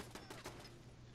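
Rapid bursts of turret gunfire in Fallout 4, several quick shots in a row early on before trailing into low rumbling game ambience.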